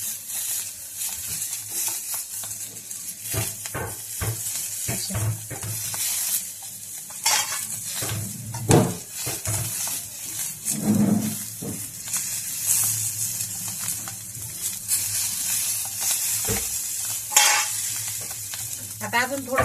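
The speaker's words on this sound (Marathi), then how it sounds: "आता आपले 5 मिनिटं झाले, याच्यावर झाकण काढलंय मी. अशा उलट्या पालथ्या करायच्या मिरच्या." Bell peppers in masala sizzle in an oily pan as they are flipped over, with scraping and clattering from the utensil over a constant hiss. A voice is heard faintly now and then.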